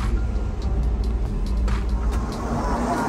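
Buses idling and moving at a coach station in Europe, a steady diesel rumble with traffic noise, faint clicks and clatter scattered over it, and no speech.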